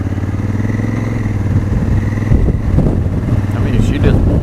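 Engine of a 2017 Honda Africa Twin motorcycle with automatic gear shifting, a close throbbing idle that rises as it pulls away, with wind buffeting the microphone and a rider talking over it.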